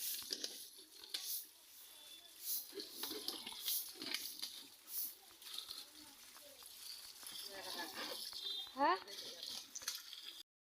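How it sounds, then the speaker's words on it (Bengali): Water gushes from a household tap into a container on a home veranda in Bengal, a steady splashing and pattering that carries on for several seconds at moderate distance. "জলটা আগে ভরে নিই"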